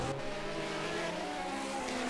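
Race cars from a 1974 Formula One season at the Long Beach street circuit in the F1-SR racing game, a steady engine drone with a faint tire squeal, no voices.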